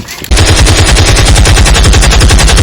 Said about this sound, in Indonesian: Latihan nembak.